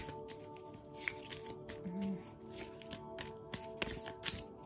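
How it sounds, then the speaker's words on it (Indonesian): Tarot cards shuffled by hand give a quiet, continuous papery riffle with scattered light taps and snaps, close and fairly faint. "Aku shuffle-nya di belakang aja ya."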